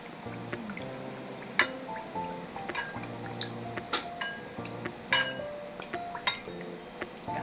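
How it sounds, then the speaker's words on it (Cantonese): Honey poured into a pot, about three catties of it, with soft drips, clinks and liquid sloshing in an uneven run of small sounds, close and alone without talk. "三斤啦，落多3斤蜜糖"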